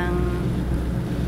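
A boat engine drones steadily and loudly during a ride from Cebu toward Estancia, Iloilo, a constant low rumble with wind and water wash and no clear voices.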